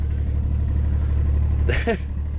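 Diesel engine of a Takeuchi compact machine idling through its muffler with a steady low rumble, then a brief higher-pitched rising burst near the end like a short rev.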